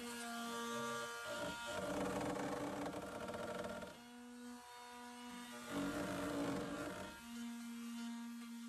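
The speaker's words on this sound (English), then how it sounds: "I went in with my detail sander just to get along these edges so that I didn't burn through any of the veneer." A detail sander works along the veneered edges of a wooden cabinet, a close, loud electric hum whose pitch shifts as pressure on the wood changes, running without a break.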